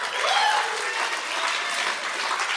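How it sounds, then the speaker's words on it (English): A conference audience at a game developers' talk applauds, a dense, even wash of many hands clapping at once that holds steady for a couple of seconds without talk. "so please applause for him."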